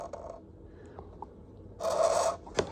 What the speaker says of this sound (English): see if we can scrape this clean, eh?